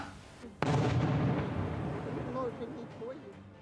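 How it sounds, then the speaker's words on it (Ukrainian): A single heavy blast from shelling in a war-damaged town booms suddenly, its deep rumble rolling and fading slowly, with faint voices heard afterward. "Пані Людмила здригається від кожного вибуху."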